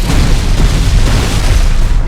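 A dense, loud explosive rumble from the Borderlands video game trailer, a bomb blast filling the whole moment with continuous booming low roar, no talk.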